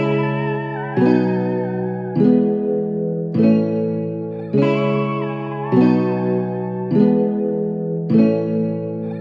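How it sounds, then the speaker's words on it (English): High, pitched-up vocal chop an octave above its original, treated with effects such as echo and chorus, repeating as a rhythmic phrase over low chordal backing in a modern Afrobeat production made in FL Studio, loud with no talking. "So I pitched the vocal up an octave and then I added a little bit of effects"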